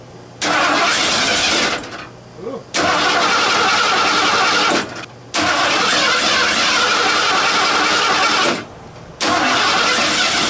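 A junkyard Ford Bullnose truck with a newly fitted carburetor from an EFI-to-carb swap cranks and starts in three loud bursts of engine noise separated by short pauses, running rough between attempts; one brief exclamation is heard.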